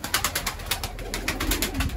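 Young tumbler pigeons in training flutter and coo close by, a busy run of soft wingbeats and short calls repeating steadily throughout with no talk.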